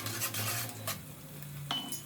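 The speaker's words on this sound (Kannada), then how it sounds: "ಸಾಸಿವೆ ಸ್ವಲ್ಪ ಹಾಕಿ ರಪ ರಪ ರಪ ಅಂತ ಮಿಕ್ಸ್ ಮಾಡಿ." Onion and mustard seeds sizzle in a pan while a utensil stirs them, with a brief hiss, scraping and a couple of sharp metallic clinks close by.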